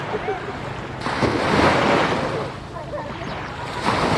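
Ocean surf washes onto the pink-sand shore of Subic Beach on Calintaan Island in the Philippines, a steady roar of breaking waves with wind buffeting the microphone and a voice talking faintly.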